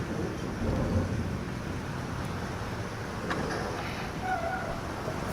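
Thunderstorm in the Life is Strange video game: a steady wash of rain and rumbling thunder, with a low rolling swell early on and a sharp crack midway, no talk.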